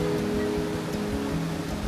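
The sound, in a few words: water flowing at Bomburu Ella Falls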